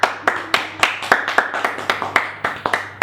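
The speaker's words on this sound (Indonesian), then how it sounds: "Tepuk tangan." Sharp hand claps at a steady, slightly quickening pace, about a dozen distinct claps close by, with a low hum underneath, in a casual studio chat setting.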